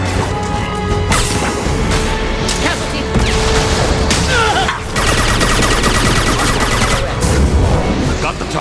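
Gunfire in the sci-fi shooter Mass Effect 2: loud, dense bursts of rapid shots and crashing impacts fill the scene almost without pause, with brief lulls and voices shouting amid the combat.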